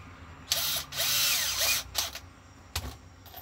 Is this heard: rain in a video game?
no